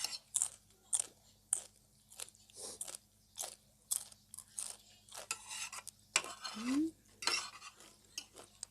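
Someone eats papaya salad, biting and chewing with loud, crisp crunches at close range in an irregular rhythm. Utensils clink against a dish now and then.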